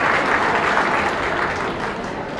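Dense, steady applause from an audience at a county beef show, honoring exhibitors in the ring, a continuous loud wash of clapping with no pauses.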